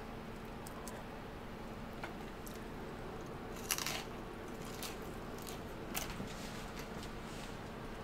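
French fries are bitten and chewed close to the mic during a hamburger meal, giving soft repeated crunches with a few sharper, louder bites.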